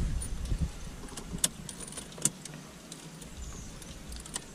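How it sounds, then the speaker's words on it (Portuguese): An old car with a manual gearbox being started with the key while in neutral with the clutch pressed: faint key jingles and small clicks over a low, steady rumble inside the car, with no voices. "Agora liga o carro."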